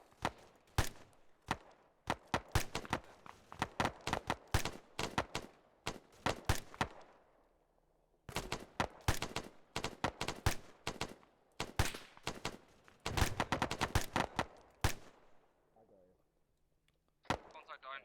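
Bursts of rifle and automatic gunfire in Arma 3, rapid cracks arriving in dense volleys with short pauses between them, loud and close.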